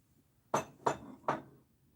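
Three crisp clinks as 1980s Art Deco style drinking glasses are handled and touched together, evenly spaced and close, in an otherwise quiet room.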